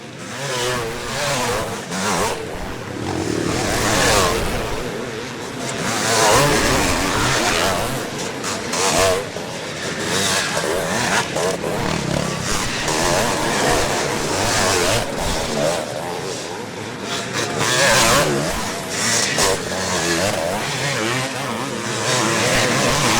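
Veteran motocross motorcycles roar around the Farleigh Castle track during a Vets MXDN race, a dense, continuous engine drone with swells as bikes pass, while a commentator talks over it.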